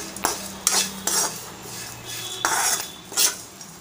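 Coriander seeds and fennel are stirred in a pan for a Malvani clam curry, with spaced metallic scrapes and clinks of a spoon against the pan, about five strokes, over a faint background hum.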